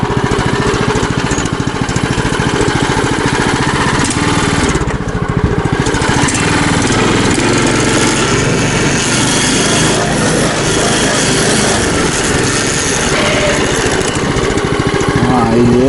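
Motorized tug engine on a snowmobile-style pusher in a snowy forest, a loud continuous rattling drone with its cover adding clatter, running steadily throughout while someone talks over it.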